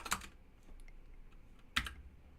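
Typing on a computer keyboard: two sharp, close clusters of key clicks, one at the start and one near the end, with faint scattered taps in the quiet between.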